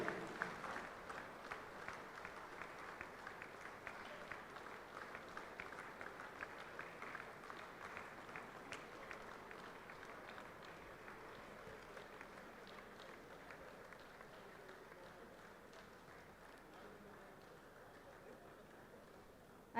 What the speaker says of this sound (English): ED sir के स्वागत में तालियों का महासमर होना चाहिए।